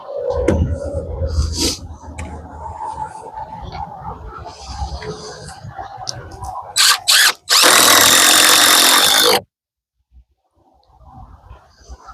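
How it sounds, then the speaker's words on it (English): A power drill drives screws into a framed header above a window in a small tiny-house build. Short bursts and handling knocks come first, then one loud sustained whir lasting a couple of seconds, followed by near silence. "I'm going to put a couple screws in these to hold them in."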